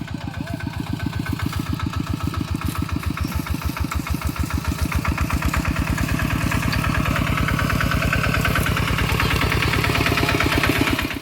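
A tractor engine chugs nearby in a rice field, with a steady, rapid thumping rhythm, growing slightly louder and rougher toward the end.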